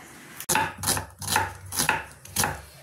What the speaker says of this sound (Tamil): இப்போ ரோஸ்ட்டுக்கு பாத்தீங்கன்னா வெங்காயம் நறுக்கிட்டு இருக்கேங்க.